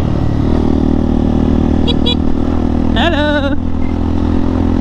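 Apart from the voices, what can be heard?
motorcycle engine braking downhill on a trail road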